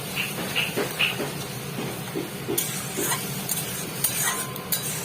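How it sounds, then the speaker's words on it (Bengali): Ridge gourd with salt, turmeric and chili powder is stirred while it fries in a pan, with repeated close scrapes of the spoon over a steady sizzle and hiss. "এই দিয়ে এবার ভালো করে নাড়াচাড়া করবো মিশ্রণটাকে।"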